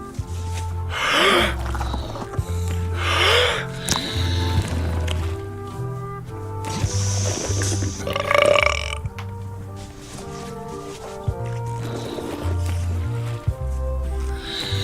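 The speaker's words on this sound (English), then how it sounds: "They're excellent for burping contests." Repeated loud, drawn-out burps from a burping contest in the Return to Monkey Island video game, rising and falling over a bed of game music.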